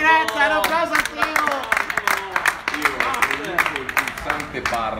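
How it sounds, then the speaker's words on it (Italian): During an interview with a band, a small group claps and cheers loudly while several people talk and laugh over it, the clapping uneven and continuing throughout. "un applauso a te!"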